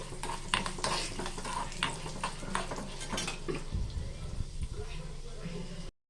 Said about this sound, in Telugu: చూడండి ఇప్పుడు చట్పట్ అన్నీ అవుతుంది కదా